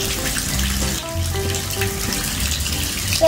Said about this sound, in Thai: ว้าวดูน้ำไหลออกไปนะบ้านเราครับ